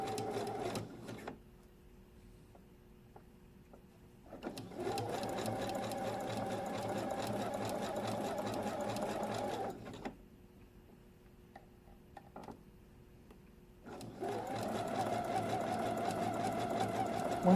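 A sewing machine stitches elastic onto the leg openings of bikini bottoms, running in two long steady bursts of rapid mechanical whirring separated by quieter pauses with faint ticking.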